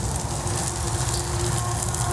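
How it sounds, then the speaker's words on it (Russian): Onions caramelizing in a frying pan give off a steady, dense sizzle with a low underlying hum, close and fairly loud throughout, with no talking. "Жарим, жарим, жарим."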